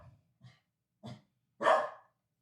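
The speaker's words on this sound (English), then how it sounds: "He always finds his way barking when we're doing this." Dog gives four separate barks at uneven intervals, the first three soft and short and the last one louder and longer, with silence between them.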